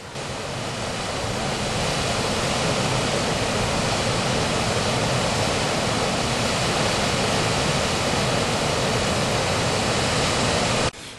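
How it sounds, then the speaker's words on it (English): High Force waterfall in Teesdale, a drop of about 60 feet or more, roars as a steady, loud, broadband rush of falling water that holds without a break from start to finish, with no talk over it. "I think that's about a 60-foot waterfall or more."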